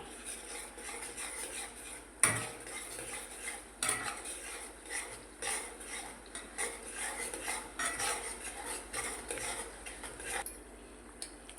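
A spoon stirring chilli powder into a chole curry in a metal pan, with repeated close scraping and clinking strokes in an uneven rhythm over a faint sizzle, no talk.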